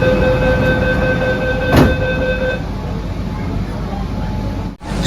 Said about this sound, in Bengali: একদম সঠিক সময়েই কিন্তু ট্রেন ছেড়ে দিল।